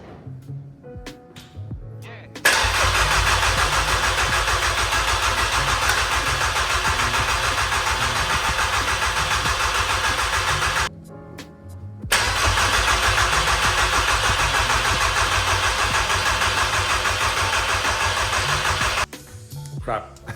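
A 2.0 AGG engine swapped into a VW Passat B4 cranks on its starter in two long bursts with a short pause between them, loud and close, without catching, with half the exhaust missing.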